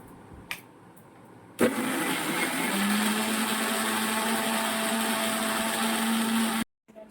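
A kitchen blender grinds a spice paste of onion, garlic, ginger and green chilli, starting abruptly and running as a steady, loud whirring roar for about five seconds before cutting off.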